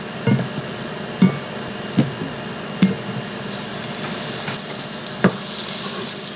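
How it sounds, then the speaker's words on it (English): Butter sizzles and crackles steadily in a pan as it browns, with a few sharp clicks and knocks at intervals and a brief hiss near the end. "So I like to get my butter brown, just so it has like a nuttier taste"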